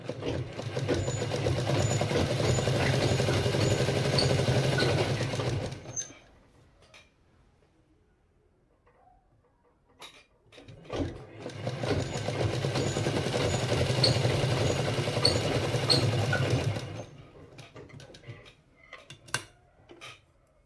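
Sewing machine stitching a blouse seam, a close steady mechanical whir that runs for several seconds, stops for a quiet pause with a few light clicks, then runs again before stopping.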